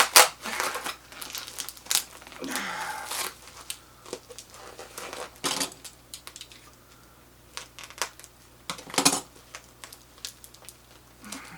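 A cardboard package with Doctor Who items is cut and torn open at close range, giving irregular bursts of crinkling, scraping and ripping with pauses between.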